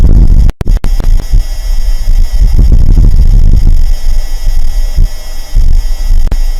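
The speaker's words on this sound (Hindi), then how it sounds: "अब अभी जो आवाज आपने सुनी है वो मार्स पर चलने वाली धूल की आंधियों की आवाज है" Martian dust storm winds captured by NASA's Perseverance rover: a loud, rough, blustery roar of broadband noise with throbbing low-end gusts that surge and fade, steady throughout with a brief dropout near the start.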